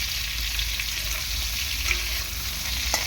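Pointed gourd (potol) frying in oil left over from frying potatoes, unsalted and without turmeric, giving a steady, close crackling sizzle with a few faint utensil clicks and no talk.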